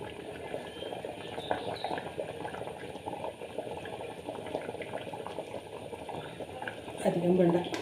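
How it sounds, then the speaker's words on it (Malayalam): Kerala-style avoli fish curry made with ground coconut bubbles steadily in a pot, a continuous soft boiling simmer that swells louder near the end. "തിളച്ചിട്ടുണ്ട് കറി."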